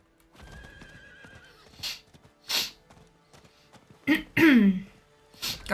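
Horse mount in the video game Diablo IV, close hoof clip-clop at a gallop with a loud whinny and sharp snorting bursts, standing alone without talk.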